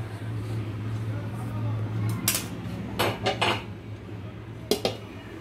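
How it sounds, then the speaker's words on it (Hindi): A knife scrapes and clinks against the metal pan sides to loosen a mango semolina cake, a few short sharp metallic scrapes over a steady low hum. "अब केक को मैं छुरी से इस तरीके से साइड से निकाल लूंगी और इसको प्लेट में ऐड कर लूंगी"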